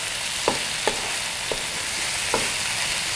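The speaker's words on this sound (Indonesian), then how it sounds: "Udangnya kita tumis dulu sebentar ya." Shrimp sauté in a fragrant spice paste, a soft steady sizzle with four distinct stirring scrapes at uneven intervals.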